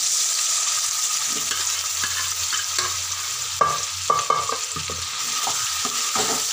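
Mashed carrot stir-fried in ghee in a kadhai for gajar halwa: a steady close sizzle with a spatula scraping and clinking against the pan in irregular strokes, no voices.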